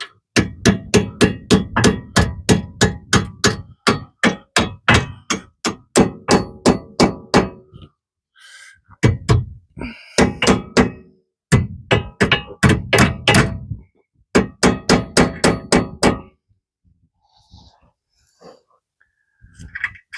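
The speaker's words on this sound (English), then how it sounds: "let's see if I can hammer this through." Hammering on a part during a Jeep Dana 30 front axle swap: loud, close metallic thunks in rapid bursts of repeated blows, separated by brief pauses, with heavy breathing between strikes.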